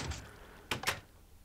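Two quick wooden door clicks in Minecraft, one right after the other, as a door activates to push an item upward; close and crisp over a quiet background.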